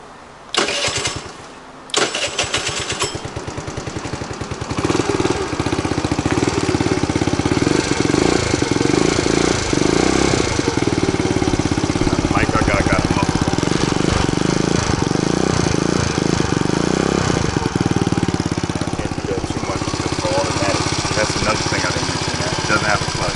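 A Dongfang 50cc automatic scooter cranks over with a few stuttering attempts, catches, and settles into a steady, close idle that runs on for many seconds.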